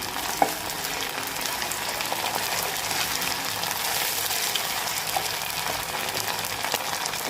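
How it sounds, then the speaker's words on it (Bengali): Ginger and cumin paste with garlic paste frying in a hot pan, a dense, steady close-up sizzle with crackling spatter and brief stirring scrapes, no voices. "1/2 চামচ আদা বাটা, 1/2 চামচ জিরা বাটা। ভালো করে কষিয়ে নিয়ে মশলাটা"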